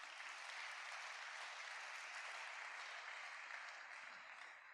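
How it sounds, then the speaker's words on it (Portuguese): A worship congregation gives a steady round of applause for Jesus, a continuous dense wash of many clapping hands heard quietly and at some distance, tapering slightly at the end with no speech over it. "Quem pode dar outra salva de palmas para o Senhor Jesus?"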